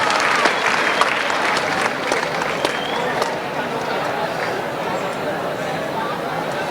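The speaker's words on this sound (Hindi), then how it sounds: "पूरी टीम का दिल्ली टूरिज्म की एक बार जोरदार तालियों से स्वागत और अभिनंदन" A large audience claps loudly to welcome the Delhi Tourism team at a public event, dense steady applause with scattered sharper claps running throughout and easing slightly toward the end.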